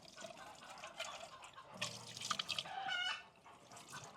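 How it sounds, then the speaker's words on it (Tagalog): Water from a tap splashes and sloshes while a Great Dane or beagle feeding bowl is washed at a kennel. The bursts are close and irregular and swell near the end. "Hugasan din natin yung kakainan niya."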